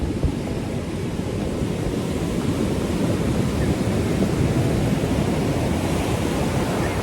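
Ocean surf rolling onto Santa Monica beach in California at sunset, a steady, loud wash of broadband noise with no distinct breaks, mixed with wind buffeting the microphone.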